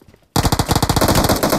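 Rapid automatic gunfire in the mobile battle-royale game PUBG Mobile, a loud sustained burst of closely spaced shots that starts abruptly after a brief quiet moment and runs on without pause.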